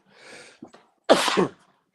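Someone gives a soft intake of breath, then a loud, sharp single sneeze at close range, all on its own.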